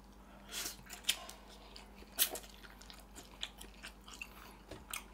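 Close, crisp bites and crunchy chewing of Lemonilo instant fried noodles (mi goreng), a few sharp crunches spread over a few seconds with no talk.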